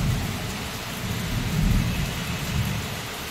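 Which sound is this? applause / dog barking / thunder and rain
thunder and rain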